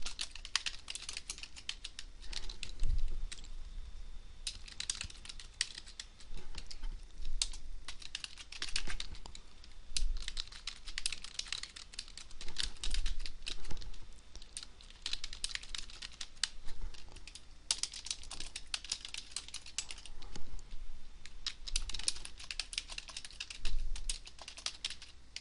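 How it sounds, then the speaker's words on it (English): Rapid, uneven clicking of keys on a computer keyboard continues throughout, with short pauses between bursts of typing. "So bear with me with my typing."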